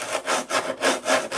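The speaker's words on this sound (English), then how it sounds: "What I'm doing here is I'm just eyeballing it and sanding it square." Wooden center section of a Sig Magnum model airplane being sanded square by hand, a steady rhythmic rasping with about five close, even back-and-forth strokes.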